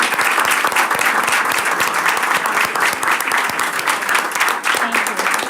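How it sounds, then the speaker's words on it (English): A school board worksession audience applauds a thespian troupe with steady, crowded clapping at moderate volume, continuous from start to finish. "Can we have another round of applause for the thespian troupe?"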